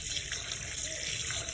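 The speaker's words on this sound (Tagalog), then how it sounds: "Lagyan muna natin ng tubig" Tap water runs steadily into a container for cooking, a continuous close hiss and splash with no talking.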